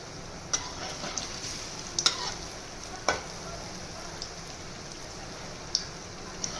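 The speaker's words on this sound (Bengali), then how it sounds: "এইভাবে সব ফুলুরিগুলো ভেজে নেবো" Gram-flour fritters fry quietly in hot oil, giving a soft, steady sizzle broken by a few sharp crackles and pops.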